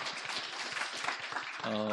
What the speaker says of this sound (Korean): 우리 박수하실까요?